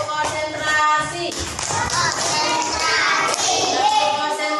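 A group of children plays the tepuk konsentrasi clapping game in a classroom, with rhythmic hand claps and taps mixed with lively young voices chanting and talking throughout.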